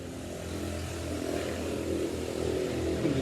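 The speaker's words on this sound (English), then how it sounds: "we got National Highway runs right up front there. So and people around here don't believe in mufflers. So a little loud." Traffic without mufflers passes on a national highway near the property, a faint, distant, continuous engine drone with some rising revving, heard alone.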